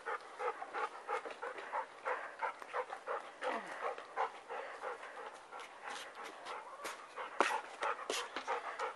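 A dog pants and whimpers close by in a steady, continuous run of quick breaths and soft whines, with one louder yelp near the end.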